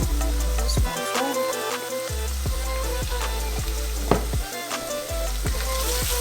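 Curry and chickpeas sizzle steadily in a hot pan, with rhythmic scraping stirs cutting through the constant frying hiss, close and fairly loud with no speech.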